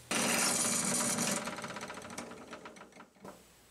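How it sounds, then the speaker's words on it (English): A loud whirring drill press spins up, then a rapid rattling grind as it drills a 1/4 inch hole, tapering to scattered clicks and a final clunk. "I'm drilling these holes on the drill press."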